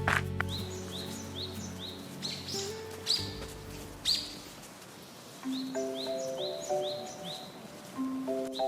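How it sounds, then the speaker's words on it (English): A robin chirps repeatedly in quick, rising notes over soft musical tones, the calls coming in short bursts, fairly clear and close, in a forest. "That is a robin. Robins have a red chest and sing sweetly."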